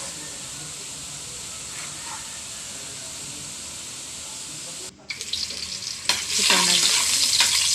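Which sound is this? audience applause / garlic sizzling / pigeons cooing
garlic sizzling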